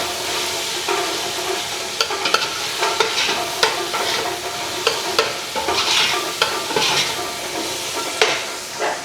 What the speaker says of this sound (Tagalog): Sutay lang ulit natin.